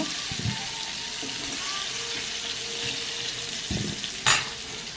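Katla fish head frying in oil in a pan, a steady close sizzle throughout with a few soft stirring knocks and a brief sharp clink near the end.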